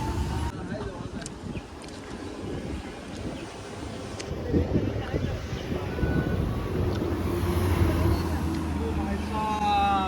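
Steady wind rushing across the microphone outdoors, a constant broadband roar that swells slightly midway, with no clear voices.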